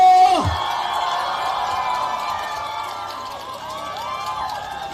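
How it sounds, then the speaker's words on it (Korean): A crowd at a South Korean political rally cheering and shouting together in a dense, sustained roar, with individual voices rising above it throughout. "크게 함성 질러주세요."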